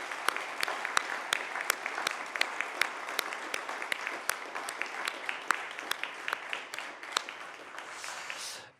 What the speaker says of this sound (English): you deserve a big round of applause